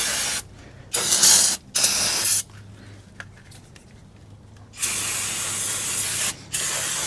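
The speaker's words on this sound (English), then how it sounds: "now we're going to give it some brake clean treatment to get all the spilled brake fluid from this procedure off of here" Brake cleaner sprays onto a GM truck's rear disc brake caliper in short, loud hissing bursts separated by quiet gaps, with a longer burst near the end.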